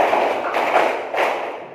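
A school religious-education class performs a patterned clap, tepuk 5, as a few loud, dull group claps in quick bursts close by, with little voice.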